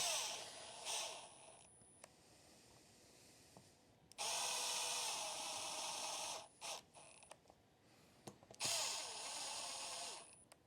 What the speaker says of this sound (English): Because there's so many, I'm going to start them with the impact.